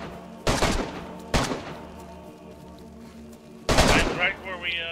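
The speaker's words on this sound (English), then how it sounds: "They're shooting at me." Gunfire in the video game DayZ: three loud bursts of shots, at the start, near the middle and toward the end, each ringing out over a steady low background hum.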